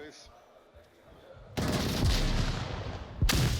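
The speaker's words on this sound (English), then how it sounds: "Early shots fired. Friendly fire, trying to get that pick on the Volk. Throwing a grenade out." Close gunfire bursts and a heavy blast in the tactical shooter game Breachers. Shots crack out during a multiplayer round, then a loud, dense roar of fire holds after the first burst and a second sharp burst follows near the end.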